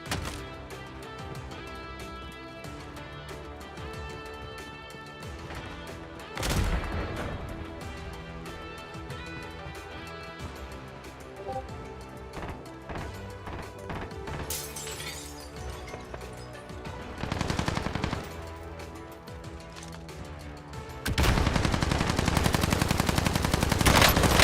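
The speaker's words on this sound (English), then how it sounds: "Who is he shooting at?" Gunfire rings out in the background over a steady bed of music, with a few louder bursts of shots standing out near the middle and a sustained loud burst of firing at the end.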